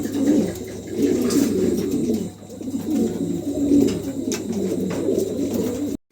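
Pigeons coo continuously at close range in a coop of healthy, top-quality birds for sale, a low rolling murmur from several birds overlapping throughout, with faint chirps above.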